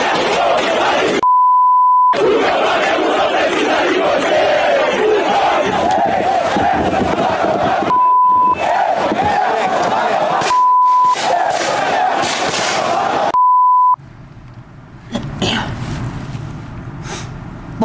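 Flamengo fans protest the team's departure with loud crowd chanting and shouting. The crowd noise is cut several times by censor beeps and short silences, and a quieter stretch of crowd noise follows near the end.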